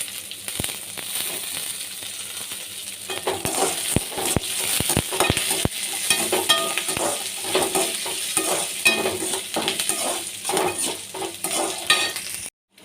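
Dried red chillies and curry leaves fry in oil for a pirandai chutney, a loud, close crackling sizzle with sharp spoon knocks and scraping stirs running throughout, then stopping abruptly; nobody talks.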